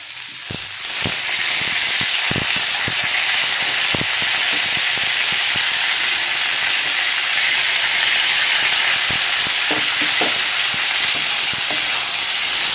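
Gima greens hit hot oil and fry, a loud, steady steaming hiss with scattered small crackles and occasional stirring taps throughout, close up and without any speech.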